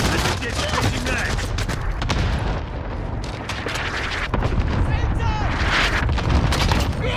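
Cluster strike explosions in the video game Call of Duty: Modern Warfare, a rapid string of loud booms and blasts mixed with gunfire, one voice shouting briefly over the chaos.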